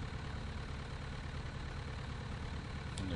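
An aircraft engine idles in Flight Simulator X, giving a steady, low, continuous drone that stays level and fairly quiet throughout, with no speech over it.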